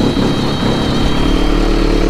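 Old tractor engine with 2,667 hours, started cold, running as a loud, close, steady mechanical rumble with a constant whine, no pauses.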